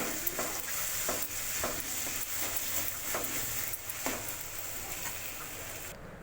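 Onions and ginger paste frying in a pan while being stirred for a homemade paneer tomato curry, a steady close sizzle broken by repeated scraping stir strokes, with no talking.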